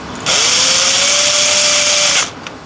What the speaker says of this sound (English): We are going to put 2 screws back in the board, hold it in place